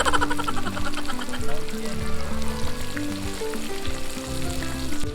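Chicken pieces frying in hot oil give a steady, dense sizzle, with music and a voice running over the frying throughout.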